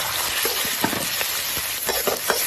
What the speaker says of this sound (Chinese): 把这肥肉油炒出来，放入瘦肉、大蒜和小米椒